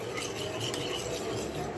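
Honey being stirred into a DIY lip scrub in a small container, a soft, continuous scraping swirl heard close up and steady, with no voices.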